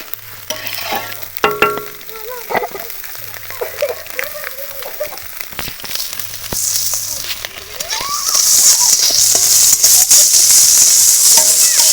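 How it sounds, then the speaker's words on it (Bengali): Dried red chillies and five-spice seeds sizzle in hot oil, building into a loud, constant crackling hiss, with scattered clinks and scrapes of stirring near the start. "পাঁচফোড়ন দিয়ে দিলাম দেখো শুকনা লঙ্কা দিয়ে দিচ্ছি"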